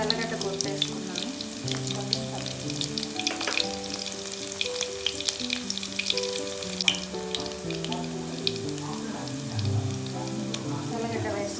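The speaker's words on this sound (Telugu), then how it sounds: "సరిపడా ఆయిల్ వేసుకొని ఆయిల్ కాగిపోయినాక తెల్లగడ్డ వేసుకున్నాను" Crushed garlic frying in hot oil in a pan while making bendakaya fry, a continuous close crackling sizzle with sharp spattering pops throughout.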